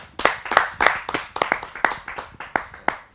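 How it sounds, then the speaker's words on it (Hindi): Audience at a Hindi kavi sammelan poetry gathering welcoming a poet with rhythmic clapping, about ten sharp, evenly spaced claps close together, loud and near. "आप सबकी जोरदार तालियों से मैं स्वागत करता हूँ उत्तम द्विवेदी जी का"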